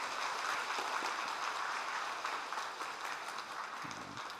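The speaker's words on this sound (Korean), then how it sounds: "감사의 박수 드리도록 하겠습니다." A church congregation at a Sunday worship service claps together in thanks, producing a steady, dense wash of applause that fills the room at moderate volume without pause.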